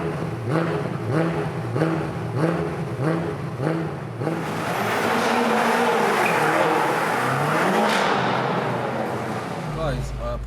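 BMW M5 Competition driven hard at night, its engine droning and revving in a steady cycling pattern, then swelling into a loud sustained roar with tire noise, close and in-cabin throughout.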